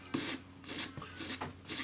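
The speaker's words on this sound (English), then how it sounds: "So 400 grade paper on a sanding stick." 400-grade abrasive paper on a sanding stick rubbing a ring's solder joint: four steady back-and-forth rasping strokes, close and fairly quiet, with brief pauses between them.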